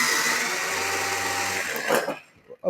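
An electric food chopper whirs steadily as its blades finely mince onion, a loud continuous buzzing hum that stops abruptly, followed by a few light clatters and knocks.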